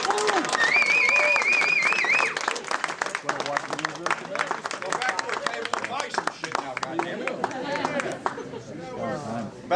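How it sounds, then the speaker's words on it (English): Convention panel audience gives a round of applause, clapping heard in the first seconds and then giving way to loud chatter and talking as people begin to leave. "One more round of applause before we go."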